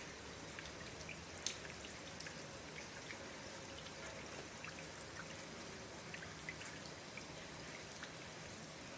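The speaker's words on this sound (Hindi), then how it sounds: "मैं अपनी बहनों को बारिश भी साथ साथ दिखा रही हूँ" Steady rain falls and patters across surfaces, with occasional sharper drips standing out from the soft, even hiss, fairly faint and continuous with no voices.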